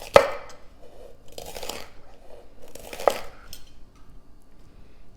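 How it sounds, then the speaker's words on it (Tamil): A knife cutting through star fruit on a board while making a street-food guava and star fruit snack: three crisp chopping strikes spaced about 1.5 seconds apart, near and fairly quiet, with no talking. "இப்போ இந்த ஸ்டார் ஃப்ரூட்டை கட் பண்ணிக்கலாம்."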